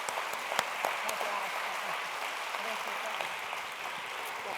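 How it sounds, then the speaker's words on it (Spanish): An audience at a cultural dialogue event in Valencia applauds, a fairly faint, steady wash of many hands clapping with a few sharper claps near the start, heard from a distance. "os pido un aplauso para las dos"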